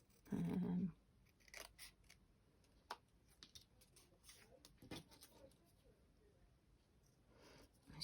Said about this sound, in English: Let's just cut random words out.